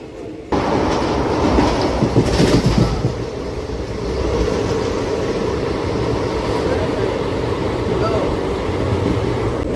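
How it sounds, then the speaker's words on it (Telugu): Nagarsol superfast express 12787 rumbles along the rails near Bhimavaram with a loud, continuous wheel roar and clatter from onboard, beginning abruptly and holding steady throughout. "భీమవరం టౌన్ స్టేషన్ నుంచి మా ట్రైన్ అయితే బయలుదేరిపోయిందండి"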